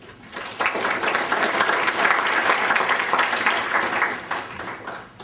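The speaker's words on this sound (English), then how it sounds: "just give him applause" An audience applauds at a West Point mathematics award ceremony, the clapping rising quickly, holding a full, steady level for several seconds, then thinning out toward the end.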